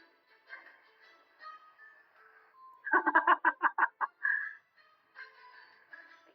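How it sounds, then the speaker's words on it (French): A herring gull calls in an urban setting: drawn-out cries, then a loud rapid series of sharp yelping notes, and a few more cries afterward. "Ce n'est pas une mouette, c'est un goéland."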